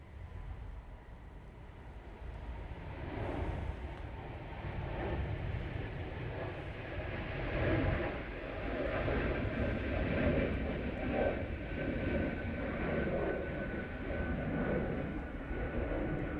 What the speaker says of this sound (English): keep these planes on the straight and narrow when they come in a little bit later